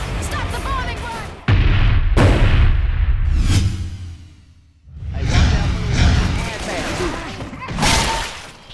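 Heavy explosions and gunfire from a bombing run in Left 4 Dead 2, with sharp bursts, whooshes and booming blasts in two loud waves separated by a brief lull.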